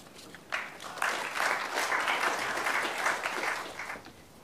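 A crowd applauds, with clapping that rises quickly and holds steady for several seconds before starting to thin out.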